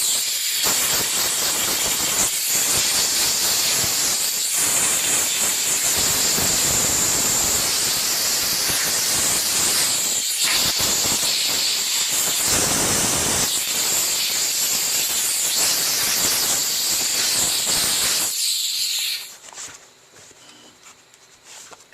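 A steam car wash machine blasts pressurized steam into a car's seat track to clear debris and dirt, producing a loud continuous hiss close up, broken by brief pauses and fading out near the end.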